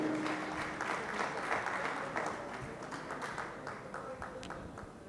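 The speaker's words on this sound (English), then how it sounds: "A huge round of applause for Ms. Kuratulain from Contour Software." Audience applause at a Dell technology event hosted by SI Global Solutions, a steady wash of clapping from a crowd, moderately distant and fairly quiet, tapering slightly toward the end.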